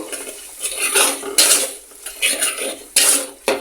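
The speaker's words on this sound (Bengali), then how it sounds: "এখন ভালোভাবে কষায় নিতে দেব" Metal spatula scraping and clanking in a pan while bitter gourd and pangas fish curry is stirred and fried, several loud irregular scrapes with no voices.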